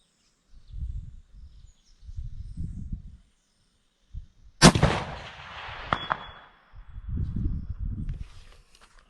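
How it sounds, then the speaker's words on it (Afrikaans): A single sharp rifle shot fired at a 300-metre target, a loud crack with a ringing tail, set between stretches of people talking. "Daar is ons skoot op 300."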